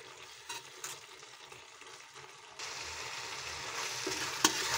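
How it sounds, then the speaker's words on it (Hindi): Spicy jackfruit curry with coriander sizzling and frying in a pan, a steady close crackle that grows louder and denser partway through, with a brief clink near the end. "कटहल को 2 मिनट के लिए और पकने देते हैं।"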